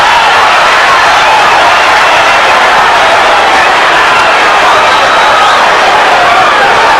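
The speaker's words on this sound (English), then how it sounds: "This crowd is right into this fight, right at the bell." A packed boxing arena crowd roars and cheers continuously through a Mike Tyson fight, a dense, loud, sustained wall of noise with no breaks.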